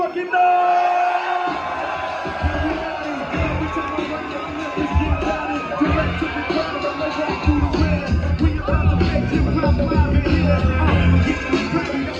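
A crowd cheers and whoops as a rapper walks through it. The roar is steady and close, with voices shouting over a rumbling mass of noise.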